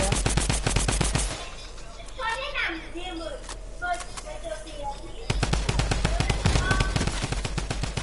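Drum gun in Fortnite firing rapid bursts of automatic gunfire, loud and dense at the start, pausing while voices chatter, then roaring again in another sustained volley.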